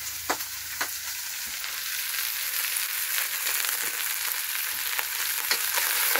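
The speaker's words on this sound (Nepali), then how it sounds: "यो चाहिँ तितेको लागि चाहिँ फ्राई भइरहेको छ" Garlic, ginger and dried chili fry in hot oil for a chicken tite dish, a steady close crackling sizzle with occasional sharp stirring clicks, no voices.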